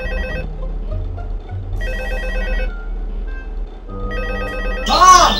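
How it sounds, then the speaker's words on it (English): A telephone bell rings in repeated bursts with pauses between them, loud and close, over a low background; a brief louder sound cuts in at the end. "would you answer your phone already?"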